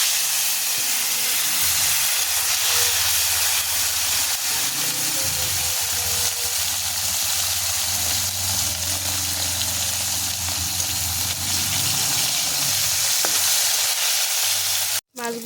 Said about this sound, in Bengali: এর মধ্যে আমি মাছগুলোকে ভেজে নেব